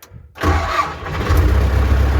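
An MTZ-82 tractor's engine cranks and catches after a brief silence, then settles into a loud, close diesel rumble that grows heavier and steady toward the end, with no talk.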